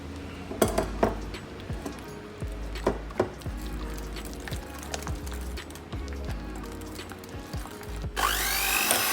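A utensil scrapes and clinks against a bowl while tiramisu cream is mixed until smooth, giving irregular knocks and sharp metallic taps over a low steady hum, close and fairly quiet.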